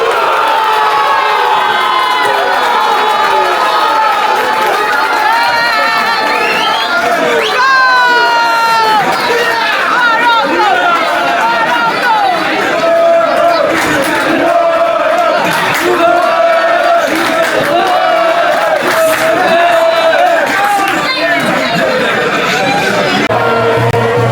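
A large crowd at a football match roars, cheers and screams continuously after a Morocco goal, loud and close, with shouting voices and chatter rising and falling throughout.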